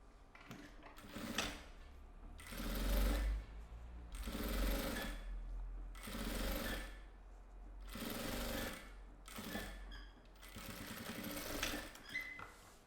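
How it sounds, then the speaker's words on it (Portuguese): A sewing machine stitches a fabric lining, running in a series of rapid mechanical bursts of a couple of seconds each with brief pauses between them, fairly faint and close, with no talking. "Alinho tudo e passo uma costura de um pé de máquina."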